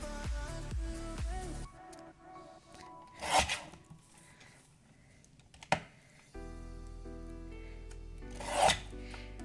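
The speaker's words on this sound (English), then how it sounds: "I'm going to trim this one still a little bit more as well, just because I've got a little bit of overfoiling around the edges." Paper trimmer or blade cutting along the edges of a BetterPress letterpress card with Glimmer foil to clean up overfoiling, heard as a few short rasping, scraping strokes against a steady background.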